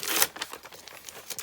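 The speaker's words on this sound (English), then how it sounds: "Can we tear a bit of that down and see?" Paper being torn by hand for an art journal page, a close series of short crinkly rips and rustles, fairly quiet and alone.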